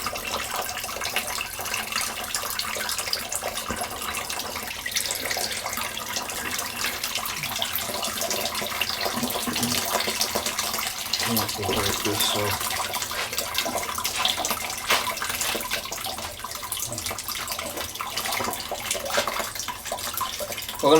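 Water running steadily from a household water meter line into a bucket, a continuous loud splashing gush that holds for the whole stretch with no talk over it.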